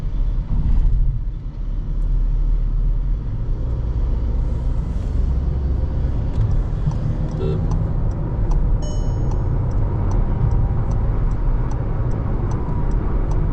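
Inside a Volkswagen Taigun GT Line cabin driving through Bangalore city with an opening left open, a steady broad rush of wind and road noise fills the car, with faint ticking clicks partway through.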